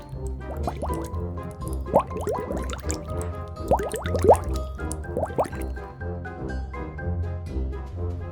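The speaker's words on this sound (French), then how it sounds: "Ajoutez l'huile dans une poêle à frire." Cooking oil pours into a frying pan with a run of wet drips, glugs and small plops, some bunched in quick bursts, close and moderately loud with no voices.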